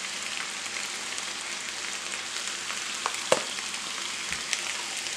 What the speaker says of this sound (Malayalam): പച്ചത്തക്കാളി ഒന്ന് വഴന്ന് വരട്ടെ കേട്ടോ.